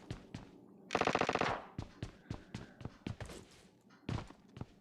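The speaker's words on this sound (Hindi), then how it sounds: "और आगे बॉट फायर आती है, वेक्टर मार रहा है कोई" A Vector submachine gun fires in PUBG Lite: a loud, rapid automatic burst of about a second, followed by scattered single shots and thuds at varying distances.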